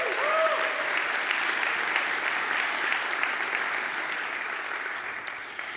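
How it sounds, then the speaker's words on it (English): A conference audience applauds steadily for about six seconds, dense and even, fading slightly toward the end, with no speech over it. "So let's give them a big round of applause."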